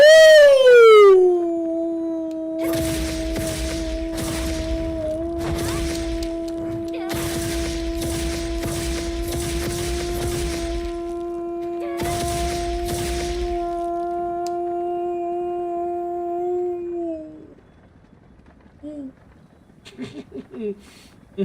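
A monster's howl in Monster Hunter World: a long, loud tonal roar that drops in pitch, then holds steady for many seconds among bursts of impact noise before cutting off, with a few scattered sounds after.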